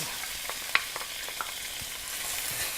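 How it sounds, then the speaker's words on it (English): Onions sizzle and crackle steadily in hot olive oil in a pan, with a few sharp pops and light scraping up close. "Sizzle these onions until they're just about translucent"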